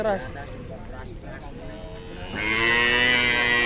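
Three agitated cows bellow loudly and close by, one long drawn-out moo swelling near the end, with people talking excitedly underneath.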